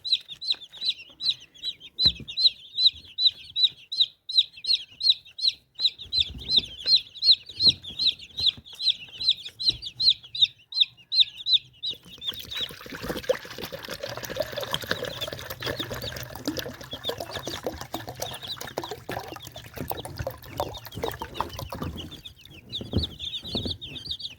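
Young chicks on their second day in a brooder give rapid, rhythmic high cheeping at close range, then scattered peeps over a louder rustling, scratching background.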